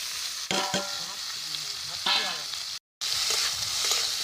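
Indian gooseberries (amla) fry steadily in oil in a wok, sizzling with a few stirring scrapes and clatters, briefly cutting to silence before the sizzling resumes.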